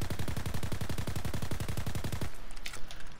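A Nambu Type 2 submachine gun in Call of Duty WWII fires a loud, rapid, even burst of about two dozen shots, then cuts off into quieter game ambience.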